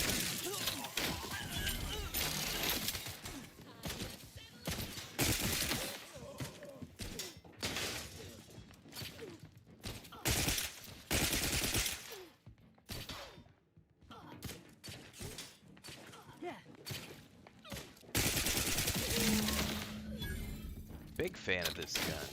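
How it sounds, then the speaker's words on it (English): Rapid bursts of gunfire from a gun in The Outer Worlds 2, loud dense volleys alternating with brief gaps, with someone talking over parts of the shooting. "This gun kicks ass."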